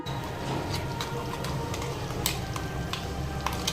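Masala paste being stirred into ivy gourd curry gravy in a pan, a steady close scraping and soft sizzle with occasional sharp clicks of the spoon against the pan.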